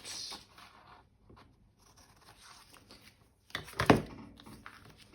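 Scissors cut out a clothes tag: light intermittent snipping and rubbing, then a louder, closer burst of crisp cutting near the end.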